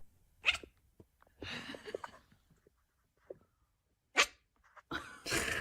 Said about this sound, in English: kitten was raised by dogs and doesn't know how to meow